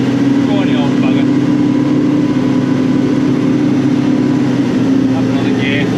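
Caterpillar 992D wheel loader engine working hard under load, a loud, steady heavy diesel drone with a strong low hum that runs throughout, no clear pauses or surges.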